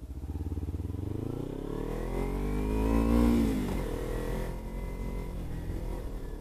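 A motorcycle pulls away in first gear, its engine revving up steadily and loud nearby, the pitch climbing then easing off as it keeps running.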